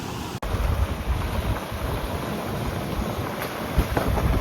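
Fast water rushes by in a loud, continuous roar, with wind buffeting the microphone throughout.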